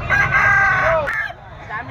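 A green-legged stag rooster crows close and loud, one drawn-out call lasting about a second, followed by a softer trailing sound and faint background noise.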